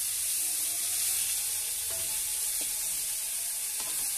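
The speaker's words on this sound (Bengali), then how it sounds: "দিয়ে মাছগুলোকে আমি ভালোভাবে ভেজে নেব।" Fish pieces frying one by one in hot oil in a pan, a steady close sizzle with faint crackles throughout and no talking.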